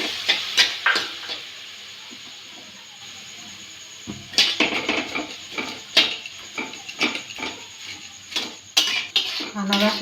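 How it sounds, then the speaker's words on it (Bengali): Pineapple and sugar stirred in a wok for pineapple patties, with a utensil clinking and scraping against the pan in irregular bursts, a quiet gap partway through, then busier scraping and tapping close by. "আনারসের রসটা যতক্ষণ না শুকোবে আমি ততক্ষণ নাড়তে থাকবো"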